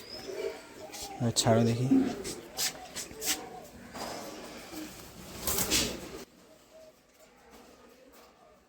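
Pigeons being sold from a home loft coo in repeated low, throaty bursts close by, mixed with wing shuffles and handling noises, while someone speaks briefly.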